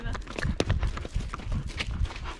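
Pony hooves clip-clop in an uneven rhythm close by, with faint voices and rustling in the background.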